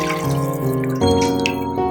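Strained chicken stock pours steadily into a large cooking pot, a close, continuous liquid stream whose pitch shifts as the pot fills.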